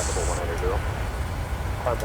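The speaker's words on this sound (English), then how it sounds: "Engine switches can go to off." Microsoft Flight Simulator PMDG 737 engines shutting down at the gate: a steady, low airliner engine rumble runs throughout, with someone talking over it.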